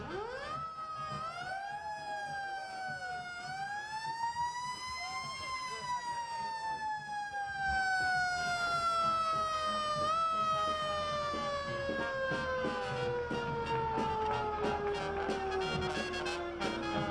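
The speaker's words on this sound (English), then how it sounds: "That is a 1951 four-wheel drive fire engine, and we always hope that they don't need to use it." A 1951 four-wheel drive fire engine of the Nevada City Fire Department wails its siren in a Constitution Day parade, a long rising then slowly falling tone holding strong for many seconds at moderate distance over crowd noise.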